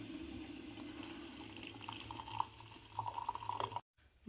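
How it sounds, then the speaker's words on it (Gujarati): Hot water poured from an electric kettle makes a steady liquid trickle with faint drips, fairly quiet and close, stopping abruptly near the end. "આ કેટલવાળું પાણી લઈ લેવાનું ગરમા ગરમ."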